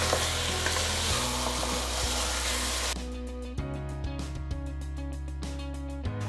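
Marinated mutton hits fried onions in a pot for Hyderabadi mutton biryani, erupting in a loud, dense sizzle that drops partway through to a steadier crackle as the meat is stirred, with a persistent low hum underneath.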